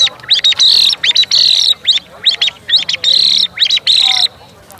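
A person imitates a song thrush with whistled phrases, a run of short, bright, repeated chirping calls in quick bursts with brief gaps, loud and close, no talking.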